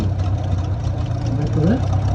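A tractor engine rumbles steadily at idle nearby, with a brief voice-like sound rising over it near the end.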